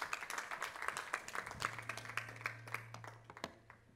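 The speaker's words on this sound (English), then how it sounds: "So let us all give him a round of applause" Congregation in a church gives a round of applause for a pastor, quiet and distant, a rapid patter of many hands clapping that tapers off after a few seconds, with a low hum beneath.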